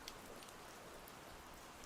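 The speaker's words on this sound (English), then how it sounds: "Let me know if you can hear the rain sounds in the background." Steady rain pattering on a surface, soft and diffuse in the background, picked up faintly by a desk microphone with the gain turned all the way up during a quiet indoor recording.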